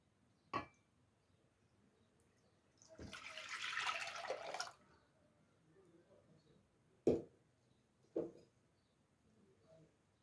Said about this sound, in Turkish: Öncelikle 4 su bardağı sütümü ekleyeceğim.